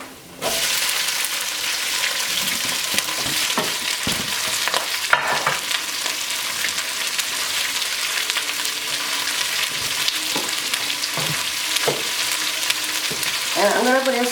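Vegetables and asparagus sizzle loudly and continuously in a stir-fry pan, a steady dense frying hiss with occasional clicks and stirring scrapes near the end.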